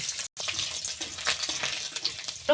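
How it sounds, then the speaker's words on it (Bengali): Garlic cloves and dried red chillies frying in oil, a close, crackling sizzle with brief stirring sounds and a momentary dropout. "রসুনটা আরেকটু ভেজে নেব"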